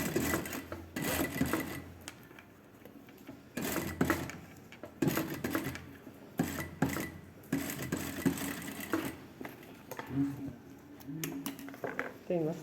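Sewing machine stitching a blouse seam, running in repeated bursts of rapid mechanical whirring with short pauses between, close and moderately loud, with someone talking over parts of it.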